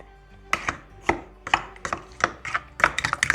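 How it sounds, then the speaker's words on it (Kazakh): Cream filling for a sour cream pie is being mixed in a bowl, giving rapid, irregular knocking and scraping clicks of a utensil against the dish, close and crisp with no talk. "Енді араластыратын боламыз кремімізді."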